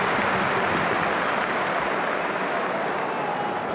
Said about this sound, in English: Appreciative round of applause from the Rangers fans.